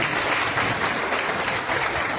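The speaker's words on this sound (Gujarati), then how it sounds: "તાળીઓથી વધારીએ." An audience at a Bhagavat Saptah religious gathering of the Gujjar Sutar community in Jamnagar bursts into dense, sustained applause, loud and continuous throughout with no voices over it.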